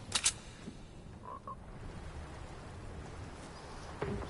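Frog croaking in a video game, a couple of faint, brief croaks in the middle over a steady background hiss, with a sharp click near the start.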